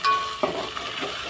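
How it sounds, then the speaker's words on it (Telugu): Ginger and turmeric stir-fry briefly in a pan as a curry base, giving a short hiss with a quick stirring scrape near the start. "అల్లం, పసుపు ఇవి మంచిగా ఫ్రై కావాలి"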